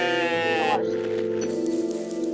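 Sheep bleat in the video game OneShot, a sustained wavering cry with a layered tone that breaks off, followed by a softer held tone and faint game ambience.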